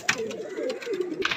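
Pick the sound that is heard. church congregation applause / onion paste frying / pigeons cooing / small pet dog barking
pigeons cooing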